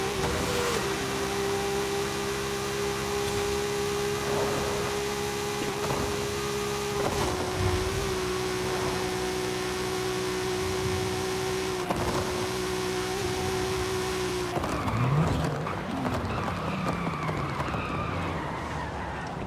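Rear-wheel-drive Toyota Supra on big meaty drag-radial tires racing a GTR in Forza Horizon 5: a steady loud engine drone holds a sustained pitch, then drops abruptly near the end as the note shifts and revs change.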